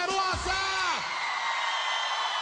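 A live concert crowd at a show in Florianópolis lets out a loud, sustained roar of screams and yells from start to finish, with a single sweeping vocal cry near the beginning.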